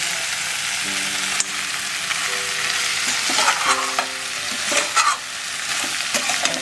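Crab cooking in a spice masala in a pan while being stirred: a steady, close sizzle with repeated scraping strokes of a spatula against the pan, no voices.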